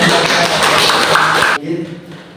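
Students in a classroom teaching-practice lesson burst into a dense round of hand clapping that stops abruptly partway through, followed by quieter room sounds and faint voices.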